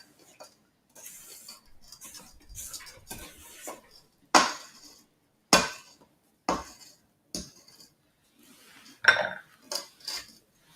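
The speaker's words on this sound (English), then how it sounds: "you want to scrape down the sides just because some butter may stick to the sides and the bottom" A spatula scraping down the sides and bottom of a bowl of chocolate chip cookie dough, heard as a series of sharp, close scraping strokes and clinks with brief pauses between.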